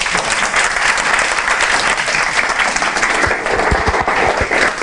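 Steady, dense applause from an audience fills the whole stretch at close range, with no break in the clapping.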